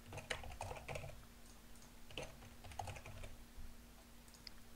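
Keys clack in quick irregular bursts on a computer keyboard as a password is typed, fairly close and alone over a low steady hum.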